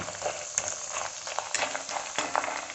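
Thin slices of raw banana sizzle and crackle steadily in hot oil for crispy Onam chips, a close, continuous frying hiss with occasional stirring clinks.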